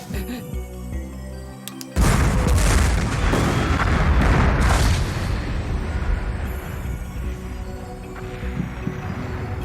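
An explosion from the anime Juni Taisen: Zodiac War erupts after a quieter lead-in, a sudden loud boom followed by a long roaring, rumbling blast that slowly settles while staying heavy.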